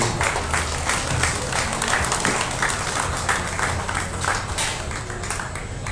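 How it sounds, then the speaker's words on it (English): Crowd applause at an evening beef cattle show after a set of steers is judged, a steady wash of many hands clapping that fills the hall for several seconds. "Give him a nice round of applause for a really good set of steers."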